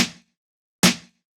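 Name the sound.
edited drum sample played back in Reason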